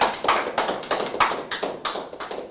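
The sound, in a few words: audience applause for children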